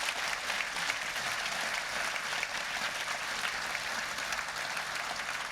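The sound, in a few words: audience applause welcoming author Chris Brookmyre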